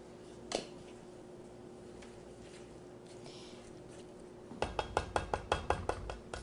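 Sugar being stirred in a pan over a small hot plate in a kitchen, a faint steady scrape with an isolated clink early on, then a run of regular metallic taps near the end.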